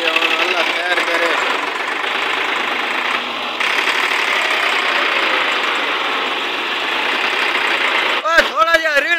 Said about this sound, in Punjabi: ਟਰੈਕਟਰ ਸਟਾਰਟ ਨਹੀਂ ਆਉਂਦਾ ਪਿਆ, ਬੜਾ ਔਖਾ ਸ਼ਿਕਾਈ ਹੋ ਰਹੀ ਹੈ